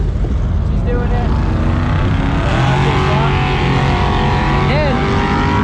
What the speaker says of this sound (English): His girlfriend is actually driving that Mazda RX-2.